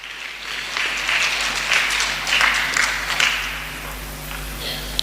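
Church congregation applauding together, a steady wash of clapping held for several seconds with soft voices mixed in.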